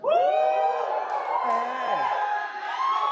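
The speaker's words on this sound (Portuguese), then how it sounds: "Pode aplaudir, aplaude com vontade a Jesus" A church congregation at a worship service cheers loudly, a dense, sustained wash of shouting and whooping voices with clapping that stays strong for the whole stretch.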